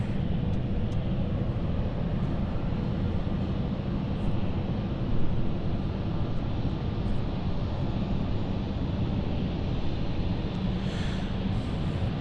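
A passenger jet lined up on the runway at London City Airport, its engines giving a steady, broad distant roar under wind noise with no clear change in pitch.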